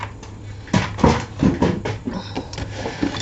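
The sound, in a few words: scoring paper on a scoreboard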